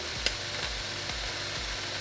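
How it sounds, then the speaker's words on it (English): A steady hot sizzle hisses close by from a preheated dry skillet of ground turkey breast, with a few soft thuds repeating at regular intervals underneath. "You hear a little sizzling in the background because that is the dry skillet that I had preheating"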